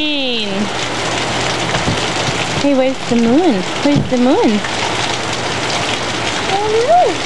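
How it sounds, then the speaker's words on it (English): Heavy rain falling during an October storm in Portland, a dense steady hiss of drops on surfaces close by, with people talking over it throughout. "You wanna come look at the rain?"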